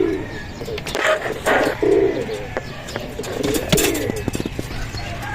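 Racing pigeons coo back at the loft after a 120-kilometre club training flight in Nueva Ecija. Repeated soft, throaty coos sound close by, with bursts of fluttering and light rustling between them.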